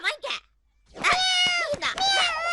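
A cat meows loudly in a drawn-out, wavering call, alongside a voice talking just before and around it.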